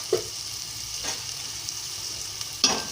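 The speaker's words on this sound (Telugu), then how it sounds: "ఇప్పుడు కొంచెం వేగాలండి" Amaranth curry seasoned with salt and turmeric fries in a pan, a soft steady sizzle broken by a few brief scraping stirs, fairly quiet, with no talking.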